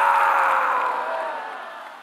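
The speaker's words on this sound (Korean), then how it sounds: "다시 한번 그분에게 감사의 박수를 열정적으로 뜨겁게 감사합니다" A church congregation at a Sunday worship service bursts into applause and cheering in thanks, a dense roar of many voices and clapping that starts loud and slowly fades over two seconds.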